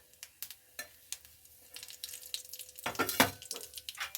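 A piece of cinnamon, dried chilies, cumin seeds and a bay leaf fry in hot oil while being stirred, giving close, crackling sizzles and sporadic scraping stirs that build louder toward the end, with no talking.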